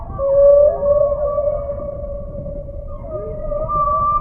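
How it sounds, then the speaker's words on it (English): A humpback whale's song in the South Pacific, long tonal moans and a gliding call, fairly loud and alone in the quiet underwater setting. "The whales in different oceans have different songs."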